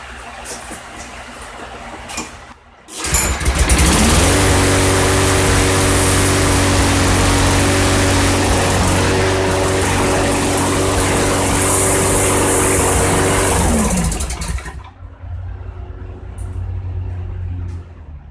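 A Troy-Bilt TB210 mower's small engine starts up and runs loud and steady for about twelve seconds, then cuts off abruptly, leaving quieter background noise.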